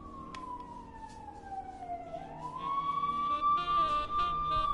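An ambulance siren wails in a slow descending then rising sweep as the vehicle draws nearer and grows louder over road rumble, with no talk.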